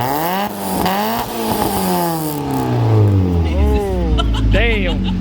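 Mazda Miata MX-5 engine fitted with aftermarket headers and a new muffler, revving hard in long rising and falling sweeps with a slipping clutch, loud and close, with someone talking over it.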